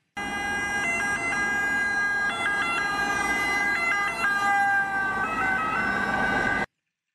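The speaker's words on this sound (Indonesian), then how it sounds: "Mobil ambulan." A loud ambulance siren wails continuously, cycling through a repeating two-tone pattern, close and unbroken until it cuts off abruptly.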